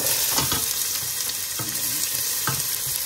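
Onion sizzling in hot oil in a casserole pot, a steady bright crackle throughout, with a few short scraping stirs punctuating it close up.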